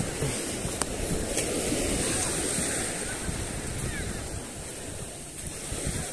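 Ocean waves roll and break along a shore at a fishing spot, a continuous rushing surf mixed with gusty wind buffeting the microphone, swelling and easing over several seconds with no talk.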